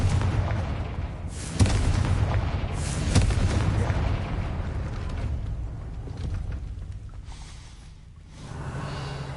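Repeated deep magical blasts from the Confringo fire spell in Hogwarts Legacy on PS5 roll through a game scene, with heavy bursts near the start and a sustained rumbling low end fading over several seconds.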